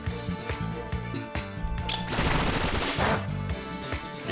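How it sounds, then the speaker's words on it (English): Bullet Seed attack effect in Pokemon Scarlet, a rapid volley of sharp popping hits over steady game music, swelling into a louder burst in the middle before the rhythmic hits return. "We'll go one more bullet seed."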